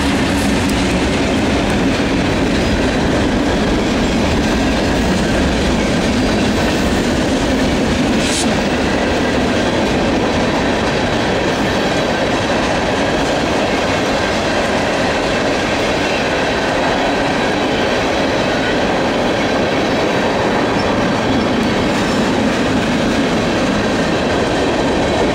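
Norfolk Southern manifest freight train rolling past on the main line, a steady loud rumble of railcars with rhythmic clickety-clack of wheels over rail joints throughout, no talking.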